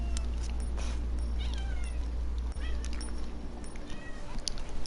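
A house cat meows several times in a room, up close and fairly clear over a steady low hum and background noise.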